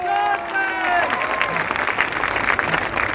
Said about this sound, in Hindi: इनके लिए ताली बजाइए जोर से